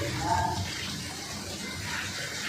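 Rainwater leaking through a broken spot and pouring into a house during heavy rain in Jam Jodhpur village, Jamnagar district, makes a steady, continuous rush of flowing water close by.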